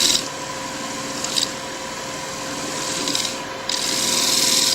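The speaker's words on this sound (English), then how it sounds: "I'll try to finish some of that off with just a 1/2 inch skew. And it's just kind of nibble away at it" A 1/2 inch skew chisel nibbling wood on a lathe while turning a wing bowl, a continuous raspy scraping over the steady hum of the spinning lathe, rising in short bursts of sharper cutting.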